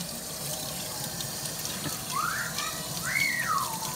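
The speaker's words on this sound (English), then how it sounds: "I got the water on leak warm, not too hot and not too cold." Warm tap water runs steadily into a sink for a hair rinse, making a constant close hiss and splash. Near the end, a few short, high squeaks rise above the water.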